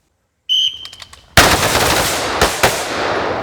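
An AR-15 rifle fires during a training drill, one loud close shot followed by a quick pair of shots, after a brief high electronic beep and some handling noise.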